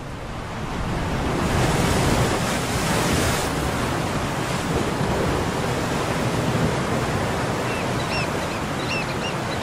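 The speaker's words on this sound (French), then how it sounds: "éviter les fortes vagues" Strong ocean waves surge and break across a rocky intertidal shore, a steady, loud, roaring wash of surf with wind noise, continuous throughout with no voices.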